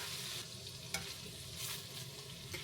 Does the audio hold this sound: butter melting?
yes